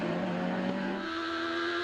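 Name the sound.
F1000 race cars racing at Phillip Island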